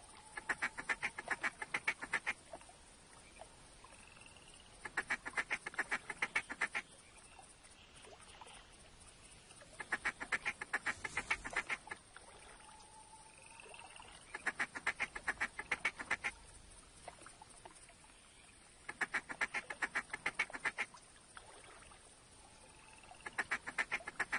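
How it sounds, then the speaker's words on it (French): Ducks quack in repeated bursts every few seconds over a steady background hiss in a duck-hunting video game, the calls loud and clustered, with short quieter gaps between. "On voit des canards qui passent au loin"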